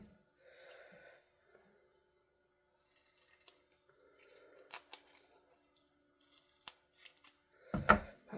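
Scissors snipping through rope trim for handmade card making, a series of quiet, close crisp cuts spaced irregularly, ending in a louder snip with a faint breathy sound.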